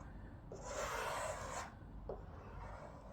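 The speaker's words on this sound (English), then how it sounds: "we're just literally spreading the resin out onto the surface" A squeegee drags epoxy resin across glass cloth laid over wood veneer, giving one soft, close rubbing sweep of about a second, then a shorter faint scrape, in a quiet room.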